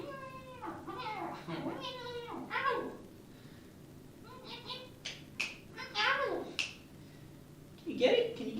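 A cat gives several short meows, close and fairly faint, scattered between stretches of a person talking softly to it in a quiet room.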